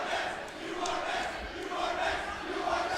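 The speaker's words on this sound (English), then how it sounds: "The Hopkins student section chanting over at Tyus Jones up in the crowd, "You are next."" Hopkins high school student section chanting in unison in the stands at a boys' section basketball game against Eden Prairie, a loud, dense crowd roar rising and falling in a steady rhythmic cadence.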